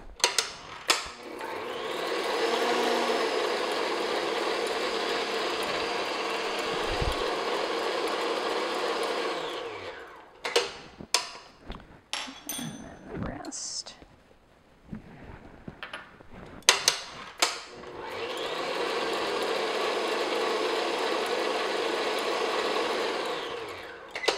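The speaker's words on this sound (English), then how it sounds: "continue to beat this on medium-high speed until it is nice and shiny and glossy and just holds stiff peaks" An electric mixer beats egg whites and sugar for French macarons at medium-high speed, a loud steady motor whir that runs for about ten seconds, breaks off into clattering and scraping, then starts up again and runs steadily to the end.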